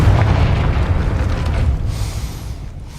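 Explosion from the Confringo fire spell in the Hogwarts Legacy video game: a loud, deep rumbling boom that rolls on and slowly fades over a few seconds, with no voices.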